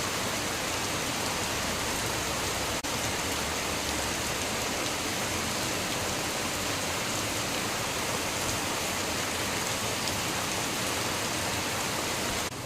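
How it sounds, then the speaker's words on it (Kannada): Heavy rain falling outdoors in a continuous, loud, dense hiss that stays unbroken throughout, with no voices. "ಇವತ್ತಿನ ಮಳೆ ನೋಡಿ ತುಂಬಾ ಜೋರಾಗಿ ಮಳೆ ಬರ್ತಾ ಇದೆ"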